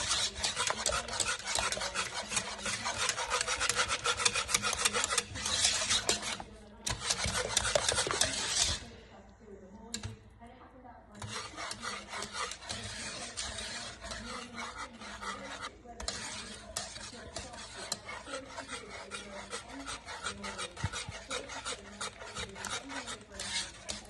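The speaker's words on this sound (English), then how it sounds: "Just keep stirring it because now it's coming together." A spoon scrapes and rasps steadily against a pan as béchamel sauce thickens, a continuous close stirring with brief pauses.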